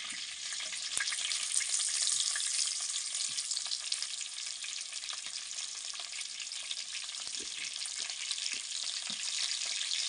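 Sliced pumpkin frying in hot oil in a kadhai, a steady, dense sizzle that holds evenly for the whole stretch with a few faint clicks of stirring and no voices.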